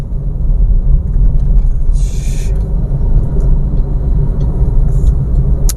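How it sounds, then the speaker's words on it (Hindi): A car climbs a slope in heavy traffic, its engine a steady loud low rumble throughout, with brief hisses from nearby vehicles. "थोड़ा सा एक्सीलेटर दिया क्योंकि यहाँ पे चढ़ाई है"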